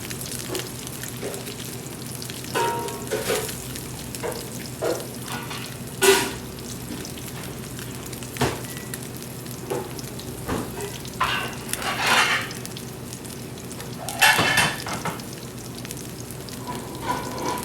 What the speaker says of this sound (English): This sauce looks good. I'm going to reduce here.